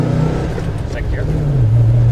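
A 1967 Pontiac GTO pulls away from a stop sign in second gear. Its low engine note holds steady, then rises in pitch toward the end amid cabin noise.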